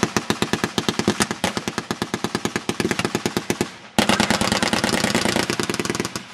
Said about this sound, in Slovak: Máte možnosť počuť jeho charakteristický kopavý zvuk.